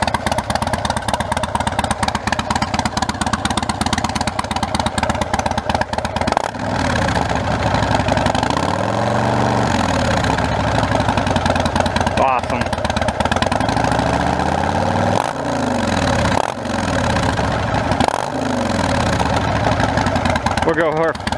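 A Harley-Davidson Fat Bob motorcycle, warmed up, idles loudly with a steady deep rumble throughout, with a few blips and revs along the way and someone talking over it.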